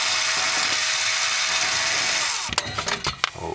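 A power tool backs screws out of an RV power converter housing: a steady, close whirring buzz runs for about two and a half seconds, then stops, followed by a few sharp clicks and rattles of handling.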